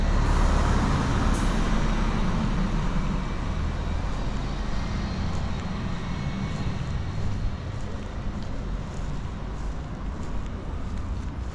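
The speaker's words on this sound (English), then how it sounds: "Oh, there's a bus." A large vehicle, a bus, rumbles past on a road near Grindelwald, Lauterbrunnen and Wengen, with a heavy, low engine drone that is loudest at the start and slowly fades into steady road noise.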